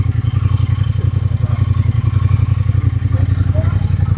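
A Triumph Thruxton FE 1200 motorcycle idles close by with a loud, steady low throb and even pulsing rumble, the engine running on without a break.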